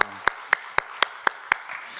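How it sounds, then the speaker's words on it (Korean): A church congregation at a Sunday morning worship service claps in unison, six sharp, evenly spaced beats followed by softer scattered clapping, heard close with no talking. "박수 드리도록 하겠습니다"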